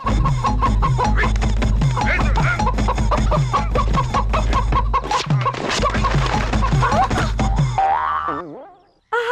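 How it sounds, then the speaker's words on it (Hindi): Chickens cluck in a dense, busy flurry over a loud, rhythmic cartoon-style soundtrack with springy boing effects, ending abruptly in a short swooping tone. "अरे करीम, ये ब्रिटिश लोग हमारे मुर्गियों के पीछे पड़ गए"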